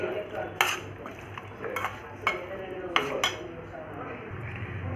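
Chicken is mixed with ginger garlic paste in a bowl for dhaba-style pepper chicken, with a handful of sharp spoon-on-bowl clinks and soft squelchy mixing between them, close and moderately quiet.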